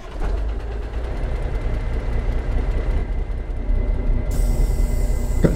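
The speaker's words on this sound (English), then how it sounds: "Got Z-Mod's custom N14 engine sound." Cummins N14 truck engine rated at 800 horsepower with an Eaton Fuller 18-speed gearbox in American Truck Simulator, a steady loud low-pitched drone that runs continuously without a break.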